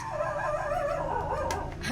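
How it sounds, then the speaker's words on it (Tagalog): A dog barks nearby in a home, a few sharp bursts over a steady background hum, with no talking. "pasensya na po sa ingay ng aso ko."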